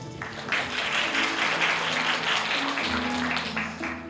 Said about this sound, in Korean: 큰 박수 한번 다시 한번